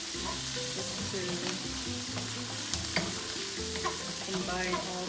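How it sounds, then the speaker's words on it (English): Pork laing ingredients sautéing in a pan, a steady close sizzle with spoon scrapes and stirring clatter running throughout, no voices. "Just continue sauteing it for a little bit"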